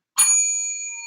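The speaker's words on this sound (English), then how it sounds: "I got the bell" A hand bell is struck once with a sharp, bright ding, then rings on in a clear sustained tone that slowly fades. It sounds close and loud, with no voices.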